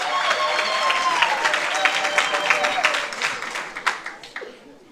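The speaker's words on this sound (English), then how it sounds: "let's give her another round of applause" An audience at a celebration claps in a sustained round of applause, dense and fairly close, with scattered louder claps, faint cheers and a few voices mixed in as it gradually thins out.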